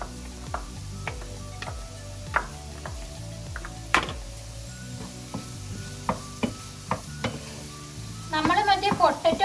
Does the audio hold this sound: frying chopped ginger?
yes